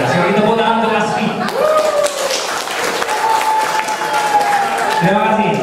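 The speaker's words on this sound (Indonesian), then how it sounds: "Sekali tepuk tangan untuk ASFI." Audience applause at a philosophy alumni reunion, a loud sustained wash of clapping with cheering voices and music-like tones running through it for several seconds.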